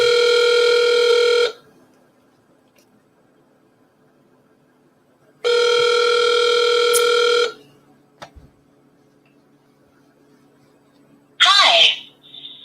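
Ringback tone on an outgoing phone call, two long buzzy rings of about two seconds each separated by a quiet pause, followed by a short burst of voice.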